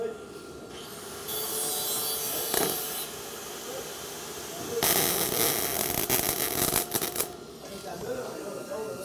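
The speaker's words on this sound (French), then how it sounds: "Je vais vous faire une moins belle soudure" Poor-quality weld being laid at a training centre, a broadband crackling hiss that runs steadily with louder bursts partway through, under ambient shop noise.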